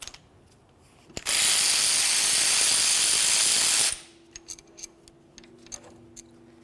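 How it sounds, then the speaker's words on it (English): A ratchet wrench loosening the lower brake caliper bolt on a 2004-2015 Nissan Titan, with one loud sustained burst of rapid clicking for about three seconds followed by quieter scattered metallic ticks nearby. "Continue on by fully removing the lower bolt."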